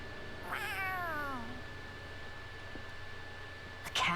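A cat meows in the Tales of Arise video game, a clear rising-and-falling call lasting about a second near the start, followed by quiet game ambience and a brief soft rustle at the end.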